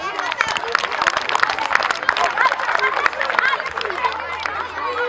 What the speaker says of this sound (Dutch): Een applaus voor Concordia.